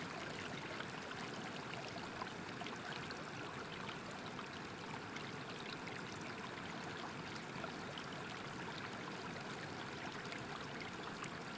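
A waterfall rushes steadily and evenly throughout, a dense, constant wash of flowing water at moderate level with no voices.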